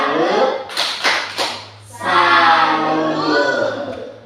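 Children clap a rhythmic salute in a classroom, several sharp group claps in quick succession, then voices chanting together.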